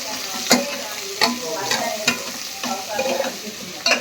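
Aloo pudina bath frying in a pan until golden brown: a steady close sizzle broken by several distinct scraping stirs and clanks spaced across the clip, with no voices.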